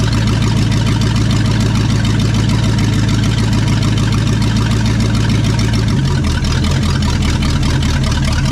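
A barn-find 1969 Pontiac Bonneville station wagon with a 428 V8, parked for 45 years, runs at high idle, a loud, steady, throbbing rumble close up that drops slightly in pitch partway through.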